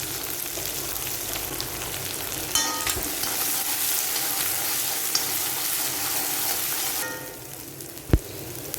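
Thinly sliced small onion rounds frying in oil in a pan while being stirred: a steady close sizzle with spatula scrapes, easing a little near the end before a single sharp knock.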